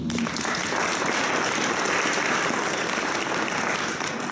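Continuous, even applause fills the room at a learners' celebration and gift handover event in Nelspruit, a broad crowd clapping steadily throughout.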